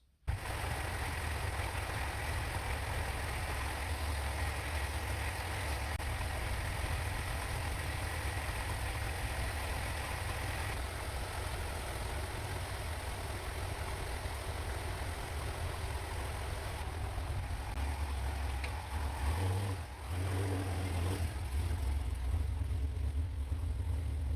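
A race car engine idles as it warms up before the first race of the year, a steady, low, continuous rumble that holds even throughout without revving.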